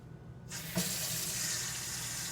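Warm water gushes steadily from a kitchen tap onto broken matzoh pieces, starting abruptly and continuing as a loud, even rush with a brief splash near the start.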